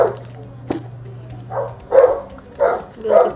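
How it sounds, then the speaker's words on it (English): A dog barks indoors at night, several loud close barks in an uneven rhythm, following a faint low steady hum and a brief knock. "apology guys for the dog"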